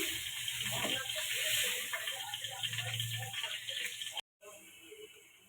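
Water poured into a pan of cauliflower and potato curry, a steady splashing pour under a faint ticking, close by, ending abruptly.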